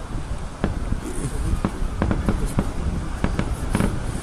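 Fireworks in a celebratory display burst repeatedly in sharp cracks and pops over a constant crackling, rumbling background, with a dozen or so distinct reports spread irregularly across the stretch at moderate distance.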